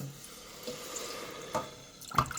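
Canned yanang leaf extract pours steadily into a pot of mushroom curry with bamboo shoots, a soft, continuous watery trickle close by that ends with a small splash.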